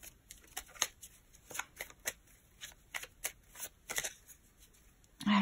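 Tarot cards being cut and shuffled by hand, a run of crisp, close riffling flicks and slaps in irregular bursts, with a brief louder sound at the very end.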